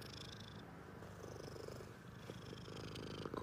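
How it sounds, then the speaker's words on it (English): A cat purrs close to the microphone, a soft continuous rumbling throb that stays steady and gentle throughout with no other sounds. "Quite a purr you got going there."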